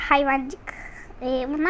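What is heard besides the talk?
No distinct noise like a dog, phone or traffic.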